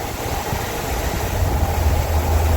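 A Mopar 318 (5.2-litre) V8 car engine idles steadily with a deep, even rumble, close and continuous, with no voices.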